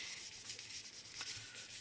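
An abrasive sponge scrubs back and forth over a 1/25 scale Revell Mitsubishi Eclipse model car body, giving a steady close rasping sound in rhythmic strokes with no talk.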